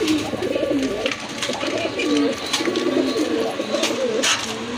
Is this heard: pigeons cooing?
yes